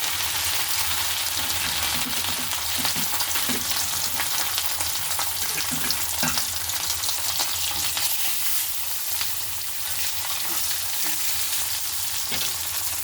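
Three bhola fish fry together in hot oil, giving a loud, steady, crackling sizzle that fills the whole stretch with dense spatters and occasional louder pops.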